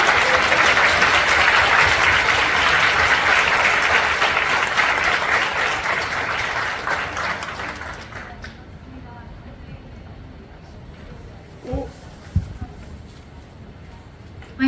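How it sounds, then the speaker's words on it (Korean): A church congregation at a broadcast worship service claps together in a loud, sustained burst of applause that fades out, leaving a quieter room with scattered faint sounds. "우리 하나님 아버지께 감사와 영광의 박수 올려드립시다."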